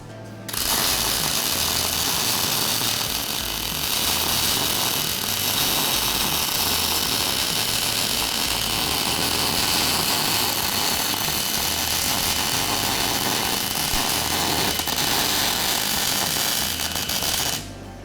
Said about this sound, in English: While welding like this with the wrong torch angle, the wrong torch distance, and travelling at the wrong speed, your weld will be offbeat and distorted.